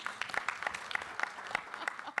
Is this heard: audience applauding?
yes